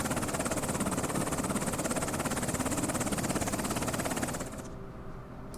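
The engine of a Black Hawk helicopter in the video game Afghanistan 11 gives a steady, loud, throbbing rotor-and-turbine drone that holds for several seconds and then drops off sharply to a quieter hum.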